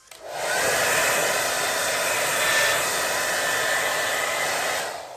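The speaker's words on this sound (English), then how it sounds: "So while I'm blow drying" A hair dryer blows steadily at close range while styling a lace frontal wig, a continuous loud whooshing hum that starts abruptly and holds even for about five seconds with no talking.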